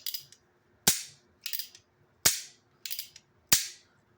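A cowboy-style .22 revolver has its action worked with soft mechanical clicks, and the hammer falls hard in three sharp, loud dry-fire snaps that alternate with the cocking sounds, close up and with no voices.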